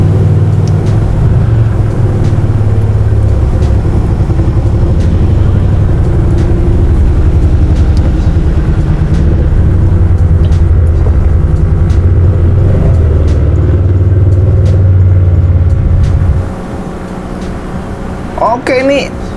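Honda Vario 110 carburetor automatic scooter climbing a hill at full throttle near 80 km/h: a loud, steady engine drone with wind rush that holds throughout, then drops off sharply near the end, with a voice talking over it.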